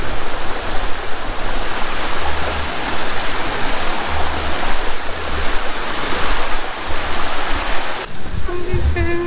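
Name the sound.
flowing stream water at a farm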